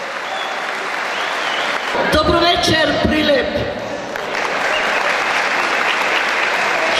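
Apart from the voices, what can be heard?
concert audience applause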